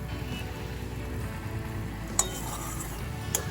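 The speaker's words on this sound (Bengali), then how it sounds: "ধনেপাতাটা ভালো করে মিশিয়ে দিলাম" Chopped coriander is stirred into a Bengali mixed-vegetable chorchori in a pan over a low, steady sizzle, with two sharp spoon-on-pan clinks.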